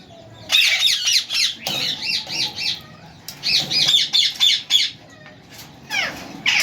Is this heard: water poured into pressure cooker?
no